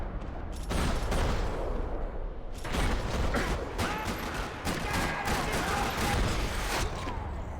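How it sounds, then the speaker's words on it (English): Sustained gunfire fills a parking lot during a shootout in the video game Max Payne 3, with dense rattling bursts and loud cracks running almost continuously under a busy, noisy mix. "Another parking lot rattling with gunfire."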